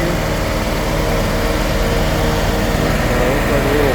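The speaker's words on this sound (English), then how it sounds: "with the main engine there, main Kohler twin" Kohler twin-cylinder engine running as a power plant on a bridge work site, a loud, continuous mechanical hum and rumble with a steady tone throughout, while someone talks over it.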